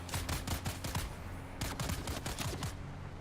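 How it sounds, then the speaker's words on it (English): Gunfire in Dune: Awakening aimed at the player: rapid volleys of shots crackle in dense bursts, pause briefly, then resume in a second cluster of sharp, loud reports. "Stop shooting at me, you fuckers."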